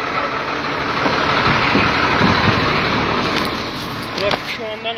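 Road traffic with trucks after an earthquake in Denizli, Turkey, a loud steady rumble of engines passing nearby with a few faint beeps, people talking underneath.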